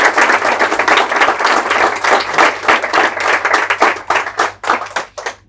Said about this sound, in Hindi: तो एक बार फिर से जोरदार ताली से